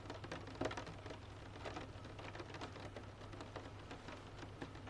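Steady, soft rain falls through the dark beyond a window, a continuous patter with occasional slightly louder drops, faint and even throughout with no voices.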